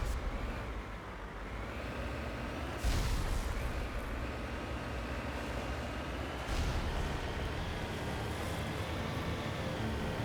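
Grenade blasts and gunfire in the Mass Effect video game, a dense continuous rumble of combat with two heavier booms standing out, fairly loud throughout with no talking.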